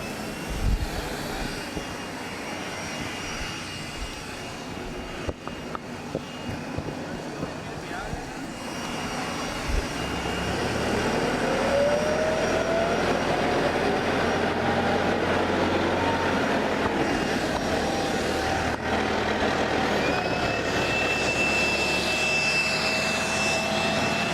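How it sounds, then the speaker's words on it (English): A tractor passes by outdoors, its engine rumble growing and then holding loud and steady through the second half while people talk nearby. "Oh, tractor tractor passing."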